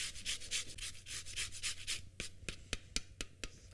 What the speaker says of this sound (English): I'm also going to add the zest of one lemon.